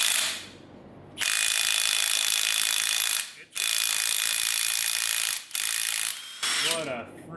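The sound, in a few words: Milwaukee mid-torque impact wrench removing crank pulley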